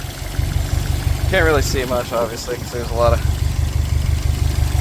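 Subaru turbo engine idling under an open hood, a steady low mechanical drone running throughout while someone talks over it up close.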